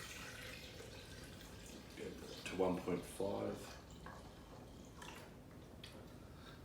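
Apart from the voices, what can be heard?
water added into blender for almond milk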